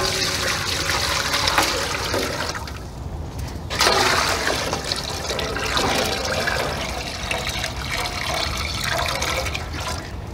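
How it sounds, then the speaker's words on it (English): Maple sap running from a feed line into a hot boiling pan: a loud, steady close rush and splash of flowing liquid with a brief dip midway, no talk. "I can adjust the flow, make it just drip in, or let it flow at a faster rate"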